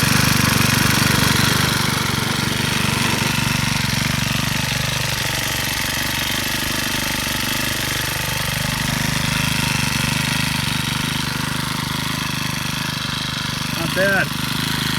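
Small Troy-Bilt 575 EC four-stroke weed eater engine idling steadily after a carburetor replacement, a continuous close buzzing drone that holds even throughout with slight wavering.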